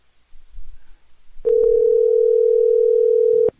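A steady cell phone dial tone comes on abruptly after some faint rustling, holding a loud, unwavering pitch for about two seconds before cutting off.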